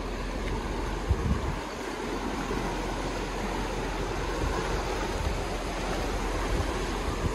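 A river in flood after a landslide tears over rocks, a dense, steady roar of rushing water heard close and loud without letup, with a few brief knocks, no one speaking.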